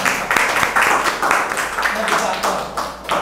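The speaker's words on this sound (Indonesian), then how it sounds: "Tepuk tangan untuk kita semua." An audience claps together at a Ramadan religious lecture (pengajian), a dense, steady patter of many hands that fills the hall for a few seconds with voices mixed in.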